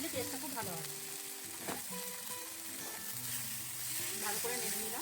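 Spice paste with green chili paste and raisin paste is stirred in a sizzling frying pan for a raw banana kofta curry, a soft continuous fry with spoon scrapes, close and fairly quiet, with faint voice sounds in places.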